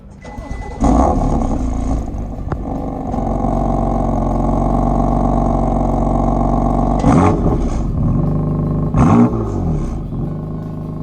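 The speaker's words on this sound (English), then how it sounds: "For a performance car though, the engine note is a little disappointing." BMW M4 performance car engine, a loud idle rumble with several sharp revs that rise and fall, one early and two more near the end, close to the car, with no talk.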